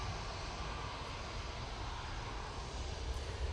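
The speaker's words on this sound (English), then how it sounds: "EasyJet coming on in front of us. This will be off to Lanzarote." An EasyJet Airbus A320neo jet airliner at Manchester Airport produces a steady, broad jet-engine roar, continuous and moderately distant, with no talking.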